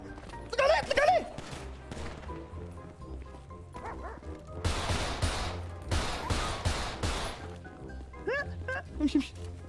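A series of rapid gunfire bursts from a video game rattles through the middle, surrounded by loud, excited shouting voices.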